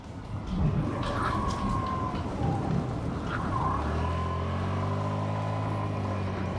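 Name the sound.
Hero Xoom 125cc scooter riding on a rough non-tarmac road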